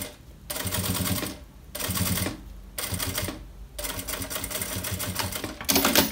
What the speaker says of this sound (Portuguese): aqui é só passar essa costura pra gente dar o acabamento aqui